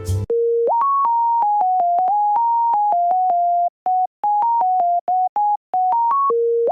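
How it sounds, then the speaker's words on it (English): A pure, bell-like sine wave synth lead plays a bouncy little future bass melody of short stepped notes, clear and alone, with brief pauses between phrases. "Grab yourself a sine wave lead from the 3x os and make a cute little melody"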